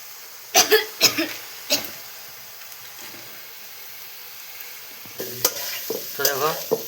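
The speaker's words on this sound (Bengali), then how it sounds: "পুরো আলুটাকে একটু ভালোভাবে ভাজে নিব।" Potatoes frying with turmeric and spices in a pan for a village-style egg curry, close scraping stir strokes in bursts over a quiet sizzle, with a pause in the middle before another run of stirring.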